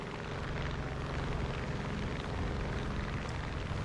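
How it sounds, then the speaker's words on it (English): A propeller plane's engine in the War Thunder Mobile game drones steadily with a close, constant roar and no distinct crash impact. "The plane did a U-turn and just crashed for no reason."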